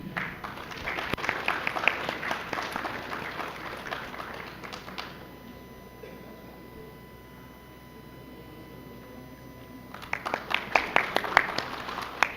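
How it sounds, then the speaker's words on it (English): Audience applause at a university B.Tech and BCA orientation ceremony: a burst of loud clapping that fades out, a quiet pause, then a fresh round of clapping that builds again. "let's give a huge round of applause to our achievers"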